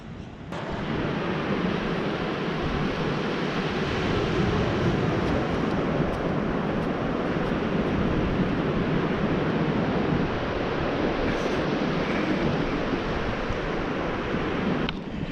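Steady ocean surf rolls onto a beach on a sunrise morning near a pier, a continuous wash of breaking waves with some wind rumbling against the microphone throughout.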